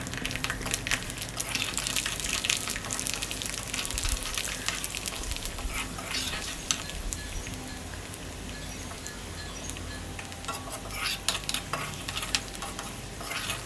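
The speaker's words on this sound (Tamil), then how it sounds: "அதோடையே கொஞ்சமாக கருவேப்பிலை, ஒரு 5-6 பல்லு பூண்டு," Garlic cloves, curry leaves and mustard seeds fry in hot oil for a pepper kuzhambu, giving a steady close sizzle with crackling pops and occasional stirring scrapes throughout.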